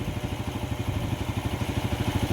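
Honda TMX 155 motorcycle with a misfiring, hard-starting engine, a rapid, even chugging putter of the single cylinder running close by, alone without voices.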